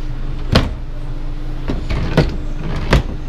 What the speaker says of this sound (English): Additional drawers in the kitchen.